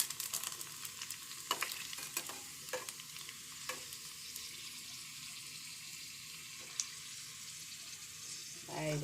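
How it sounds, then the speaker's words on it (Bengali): Fuchka (puri) shells frying in hot oil in a home kitchen, a steady low sizzle running throughout with a few sharp clicks and taps on top and no talking. "ফুচকাগুলো ঘরে ভেজে নিচ্ছি"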